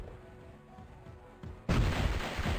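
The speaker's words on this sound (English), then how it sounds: "this guy has a cannon on him" A heavy cannon blast in the Power Rangers Lightspeed Rescue game on the N64 booms out loud partway through, then rumbles on over quieter game sounds.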